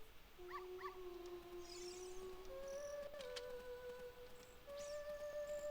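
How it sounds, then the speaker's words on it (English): A dog in Zelda: Ocarina of Time gives drawn-out whimpering howls with rising and falling tones, shifting pitch across several long cries over a quiet background. "such a cute puppy"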